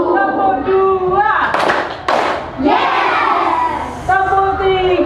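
A classroom of schoolchildren claps twice in unison during a clap routine, two sharp group claps close together with a woman teacher's voice and children's chanting around them.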